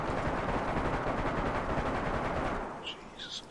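Sustained rapid gunfire in the video game DayZ, loud dense bursts for nearly three seconds before tapering off, with faint chirping tones at the end.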